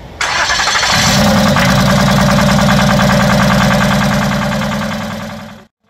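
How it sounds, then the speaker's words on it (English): An engine cranks and catches, then runs steadily at a loud, rough idle for several seconds before cutting off abruptly, heard close up with no talking. "once they got it dialed in, it didn't take long to get it started"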